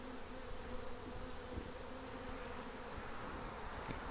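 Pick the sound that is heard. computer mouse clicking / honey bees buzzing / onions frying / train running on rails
honey bees buzzing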